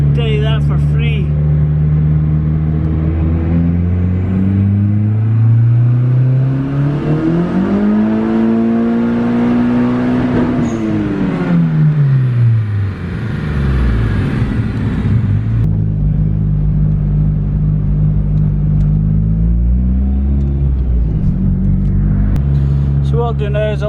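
A Honda Civic engine on a dyno revs up through a long, rising pull, its pitch climbing steadily before dropping off, then settling into a loud idle and another brief rev, with little clear talk.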